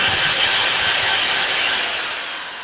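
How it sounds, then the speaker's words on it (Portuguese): An electric drill runs with a steady, high-pitched motor whine, drawing about 170 watts, continuous, close and fairly loud, easing off slightly toward the end. "a nossa furadeira, olha, vamos ver aqui o acionamento."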